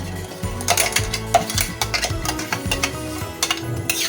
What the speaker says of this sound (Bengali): এই সর্ষে বাটাটা ঢেলে দিলাম।